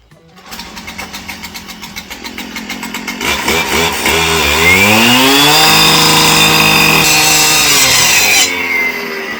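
A power saw cuts a basement door: rapid chugging pulses build into a loud, high, sustained whining roar with rising and wavering pitch, close by and then easing off at the end.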